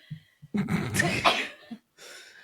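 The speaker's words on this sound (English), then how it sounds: "Oh, I'm going to sneeze." A single sharp sneeze preceded by a quick inhale and short breaths, close and loud, followed by a brief exhale.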